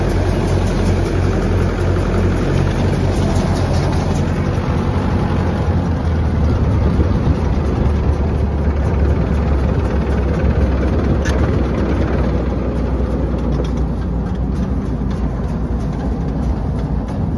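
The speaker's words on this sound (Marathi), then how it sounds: "ट्रॅक्टर बंद करतो." A farm tractor engine runs loud and close in a steady low drone, idling at constant revs the whole time in the heat during a chickpea harvest.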